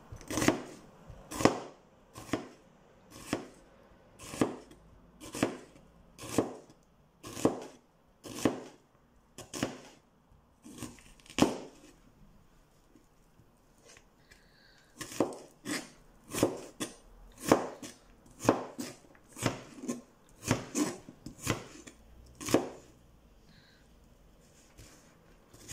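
A knife chopping food on a board for a cheese and tomato soup with croutons, sharp regular thuds in two long runs with a short pause between, close and clear with no talk.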